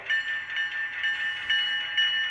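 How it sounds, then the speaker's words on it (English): Denver Rio Grande model train with DCC sound on a passenger layout, sounding a steady, sustained whistle and horn tone, faint but clean, with slight pulsing in level. "A little bit of a whistle there. A horn there."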